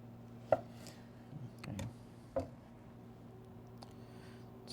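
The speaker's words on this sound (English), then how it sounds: "Some slices of avocados to put over the top of the soup. A little garnish. Chop them up." A knife chops avocado slices on a cutting board, with a few separate soft knocks spaced out over quiet kitchen background, close and moderately faint.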